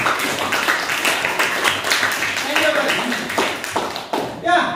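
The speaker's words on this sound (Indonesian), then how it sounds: "Beri tepuk tangan buat Karin" A class claps for a student in a classroom, a burst of clapping from a group of people under a teacher's talk.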